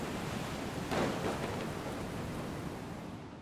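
Broad, steady rushing noise of stormy ocean waves and wind, with a brief louder surge near the start, continuous and fairly distant.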